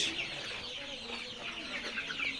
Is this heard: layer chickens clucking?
yes